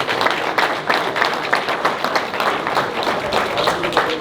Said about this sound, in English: Let's just take a minute and clap, a second and clap for our sponsors to help support them every year.